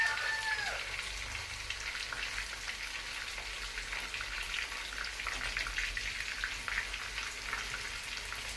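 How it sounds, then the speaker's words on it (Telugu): Jackfruit pieces frying in hot oil for pulao, a dense steady sizzle and crackle filling the whole stretch at an even, close level. "ఆయిల్ హీటెక్కింది. ఈ సైజు ముక్కలు ఉండాలి పులావ్ కూరకి, పనసకాయ కూరకి. ఎర్రగా బ్రౌన్ కలర్ వచ్చినంత వరకు వేపుకోవాలి."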